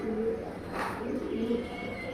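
Pigeons, a silver-colored pair, cooing softly in low, drawn-out murmurs that repeat through the moment, fairly close and steady, with no talking.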